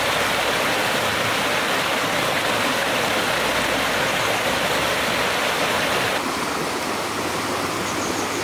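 Holy spring water at the Agia Paraskevi shrine in the Tempe Valley, Greece, flows out of rock in a loud continuous rushing stream, a steady close splashing hiss with no talking.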